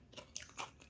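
Crispy fried garlic crunches in a few quick, faint bites, brittle and close, with no talking over them.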